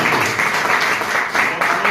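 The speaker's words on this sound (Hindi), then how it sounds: "तो एक बार जोरदार तालियां चाहूंगा सर दोनों लीडर के लिए।" A crowd applauds two leaders at an event in Hisar, Haryana: a dense, loud, steady burst of clapping that fills the whole moment with no clear voices above it.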